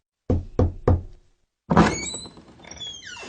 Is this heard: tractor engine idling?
no